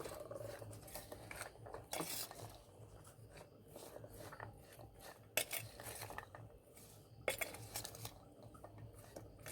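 Mango pickle mixed with crushed mustard and vinegar by hand, giving quiet wet stirring and scraping punctuated by sharp utensil clinks against a bowl, with no speech.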